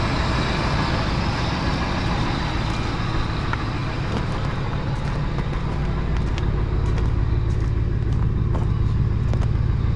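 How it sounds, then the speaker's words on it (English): A 2002 Ford F150 pickup with a quiet exhaust idling close by, a steady low engine rumble with no talking, constant and unbroken throughout. "Exhaust is quiet."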